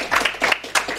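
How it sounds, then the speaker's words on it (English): A live audience at a speedrun charity event claps in scattered bursts, brief rounds of applause rising and falling close by with no one talking over them. "Just some more clapping."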